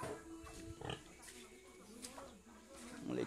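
A piglet on a small farm gives a few short grunts and squeals up close, with people talking over it.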